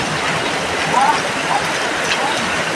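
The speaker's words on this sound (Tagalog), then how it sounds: "Tapos grabe ulan, no?" Heavy rain falls in Taysan, Batangas, a steady hiss of drops on surfaces that continues evenly throughout.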